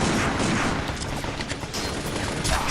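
Gunfire in the shooter video game Binary Domain, with rapid, overlapping bursts of shots and impacts crackling continuously at close range and no voices over them.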